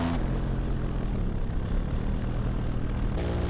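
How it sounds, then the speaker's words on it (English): Paramotor engine running in flight with a slightly low idle, a close, steady propeller buzz and drone filling the whole stretch. "Engine's good. I think the idle is slightly low."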